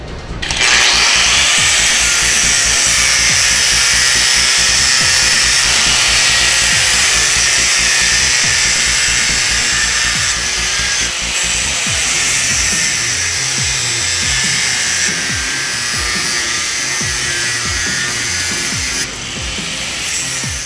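Abrasive discs, one standard and one with a performance coating, grinding a workpiece in turn, giving a loud, steady, high-pitched grinding whine that runs nearly continuously with a brief change partway through and no talk.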